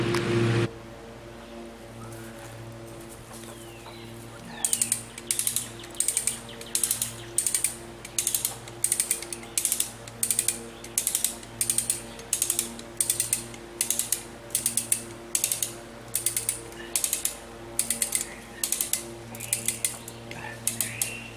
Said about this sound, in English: So I've got the winch already hooked up to this one.